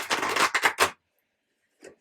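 A deck of cards being shuffled in a quick riffle: dense rapid flutters for just under a second, then silence and a brief faint rustle at the end.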